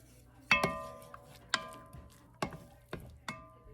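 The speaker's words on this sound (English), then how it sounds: "let me get some of this stirred" Someone stirs chopped onion into melting butter in a pot, and a spoon clinks sharply against the pot rim five times at uneven intervals. Each clink rings briefly over quiet background.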